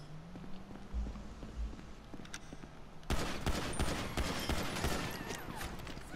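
Pistol fire in GTA 5 starts with faint scattered shots under quieter game ambience, then turns into louder, denser bursts of cracking gunfire and crashes partway through, no voices.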